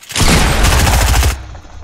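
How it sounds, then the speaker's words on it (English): Loud, close Fortnite shotgun fire erupts as a dense cluster of blasts lasting just over a second, then cuts off abruptly, leaving a faint background. "that shotgun did kill both of them in one shot"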